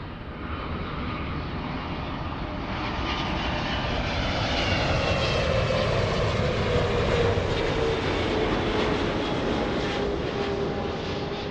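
A jet airliner lands at LAX, its engine roar broad and steady at close to medium range, swelling slightly in loudness with a faint rising whine as it passes, continuous throughout with no voices.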